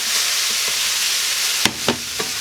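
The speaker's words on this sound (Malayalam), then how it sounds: "നമ്മളിതായി നമ്മുടെ ഇറച്ചി ഇതിലേക്ക് ആഡ് ചെയ്ത് കൊടുക്കുകയാണ്." Pigeon meat is added to frying masala for a pigeon roast, setting off a loud steady sizzle close up, followed by a few sharp stirring knocks against the pan.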